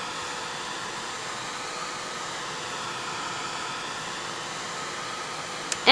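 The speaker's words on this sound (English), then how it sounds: "we're just going to hit that with the heat tool" Craft heat tool blowing over freshly stamped ink, a steady whooshing fan-and-heater hiss held evenly throughout, ending in a brief louder thump.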